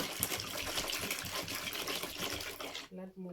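Water pours and splashes into a homemade soap mixture in a continuous gushing stream that stops abruptly near the end, leaving a faint steady hum.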